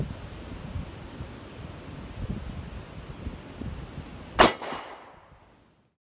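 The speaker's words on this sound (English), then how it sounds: "We're going to be shooting it with the 9mm first." A single sharp metallic clang as a 9mm round strikes an AR-500 steel body armor plate outdoors, one loud impact over light wind noise, followed by a decaying ring and then quiet.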